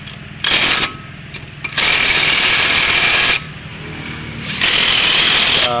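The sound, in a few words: portable impact wrench removing brake parts on Hyundai Porter 2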